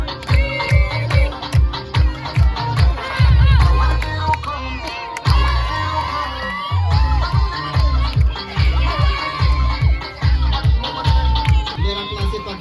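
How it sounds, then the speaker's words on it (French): A school crowd at a high school inter-class final claps and cheers loudly, rhythmic applause with shouts and whoops rising and falling across the whole stretch, a voice briefly heard amid the noise. "Les applaudissements."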